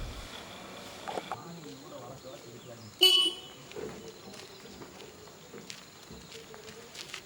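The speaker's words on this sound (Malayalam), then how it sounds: "ആ ബൈക്കിൻ്റെ ഹോൺ കേട്ടതും അവന് മനസ്സിലായി വാഹനങ്ങളൊക്കെ വന്ന് തുടങ്ങാറായെന്ന്" A motorbike horn toots once, short and fairly close, on a quiet forest road near Dhimbam in Sathyamangalam. Faint footsteps and soft outdoor ambience surround it.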